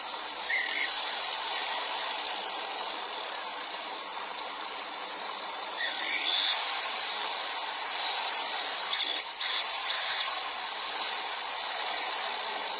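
A car engine with a worn turbocharger whose core has excessive play, idling steadily with a few short rises in revs and rattly whistling bursts, close and alone with no talk.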